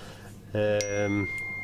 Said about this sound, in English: Apologies for the phone.